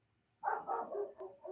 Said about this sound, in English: I apologize if you hear my neighbor start barking